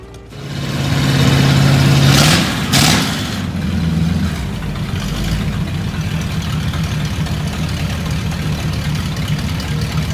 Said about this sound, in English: Jimmy Rickards and family drove in from Whiteson in the Model A. Sound pretty good coming in